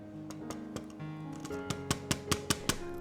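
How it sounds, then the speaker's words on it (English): Carrots being shredded into long thin strips, heard as a run of crisp, evenly spaced scraping strikes that grow louder and more regular toward the end, close and alone with no talk. "First, peel and wash your carrots, then shred them into long, thin strips."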